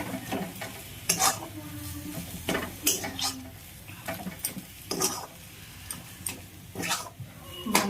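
Spiced semolina sandwich filling with chopped coriander and garam masala being mixed in a pan, giving scraping, stirring clatter with irregular utensil knocks over a soft sizzle; no talking.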